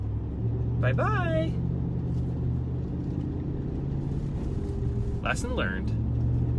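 A Chevrolet Z71 truck climbing uphill in 4-wheel drive during a blizzard, its engine a steady low rumble throughout, with a person speaking briefly over it twice.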